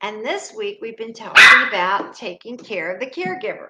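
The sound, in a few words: puppy barking in the background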